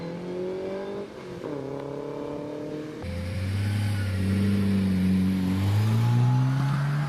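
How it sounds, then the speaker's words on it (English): A vintage racing car pulls away from the start line at the Prescott hillclimb. Its engine revs hard and rises through the gears, loud and sustained, growing nearer and fuller with no voices. "this lovely car taking off from the start, Wendy Webber."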